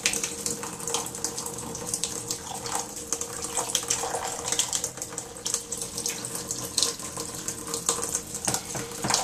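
Water runs steadily from a tap over acorn flour being rinsed in a sink, a continuous close splashing hiss with no talking.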